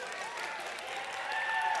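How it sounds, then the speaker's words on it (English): A middle school audience breaks into brief, moderate applause, a steady wash of clapping with a faint murmur of voices beneath it. "Yeah, you can clap for that"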